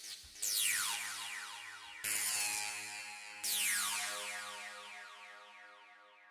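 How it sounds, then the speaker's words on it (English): High-pitched acid synth patch built in Vital with resonance and phaser, three bright sweeping stabs that each start sharply and decay into a shimmering, sliding tail, fairly quiet with no voices. "Maybe this is useful, having a nice high frequency acid sound like this."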